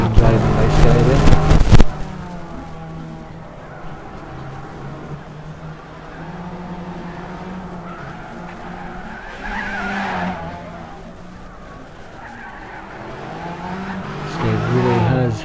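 Race cars at Bathurst in Gran Turismo 6 go through Hell Corner and up toward the mountain straight. A loud tire skid opens, then engine drone and squeal carry on under a commentator's steady talk.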